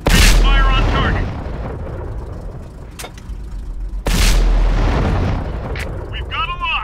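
Tank cannon shots in the World of Tanks video game: two loud, deep booms about four seconds apart, each trailing into a rumbling decay, with brief radio-style voice chatter in between.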